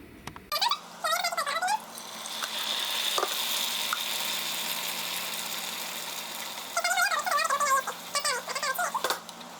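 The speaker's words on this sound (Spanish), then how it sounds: "Vamos a calentar un poco de aceite para freír la salsa." Olive oil sizzling and crackling in a pan as salsa fries, a steady hiss with bursts of sharp spitting near the start and end, loud and close with no talk.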